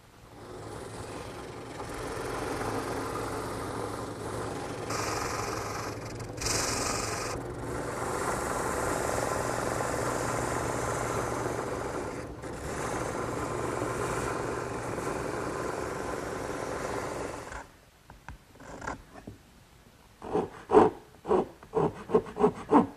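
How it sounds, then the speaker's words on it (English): A hand rasp files and shapes wooden slats for a slat-back chair, fitting each piece snugly into its mortise, giving steady continuous rubbing strokes over a low hum, then a series of short separate scrapes near the end. "Now it's just a matter of taking a rasp and fine-tuning each piece until it fits snugly in the mortise."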